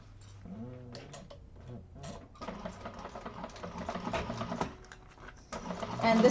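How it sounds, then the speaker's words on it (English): A sewing machine stitching a handbag lining seam, quick rattling ticks in bursts that run longer and louder toward the end, fairly faint and close, with a few brief sounds of a voice early on. "we can go ahead and sew that in place with 1/4 of an inch seam allowance"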